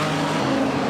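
Production sedan race car braking hard at Carina Speedway, a dense loud roar of engine and tire noise filling the short moment without any voice.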